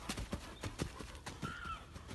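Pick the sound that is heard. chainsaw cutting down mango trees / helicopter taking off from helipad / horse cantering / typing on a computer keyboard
horse cantering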